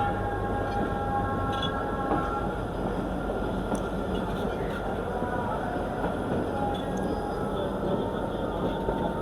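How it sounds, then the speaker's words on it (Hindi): The Marvi Express passenger train runs through Thar toward Khokhrapar with a constant rumbling clatter of wheels and carriages heard from on board, steady and moderately loud, with faint tonal whines and possible distant voices. "मारवी पैसेंजर ट्रेन अपना सफ़र शुरू कर चुकी है खोखरा पार की तरफ।"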